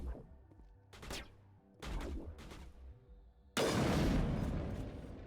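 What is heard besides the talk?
gunshots to the head in Mass Effect video game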